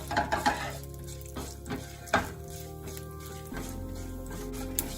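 Urad dal and chana dal fry in a pan for oats upma. Quick rattling stirs and scrapes open the sound, then a low, even sizzle continues with one more sharp scrape midway.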